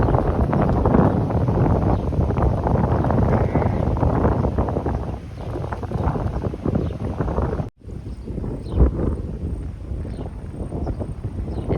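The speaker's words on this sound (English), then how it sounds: "It's really windy here now," Strong wind on an Australian cut flower farm in late summer, gusting and buffeting the microphone in a dense, continuous rumble with a brief drop partway through.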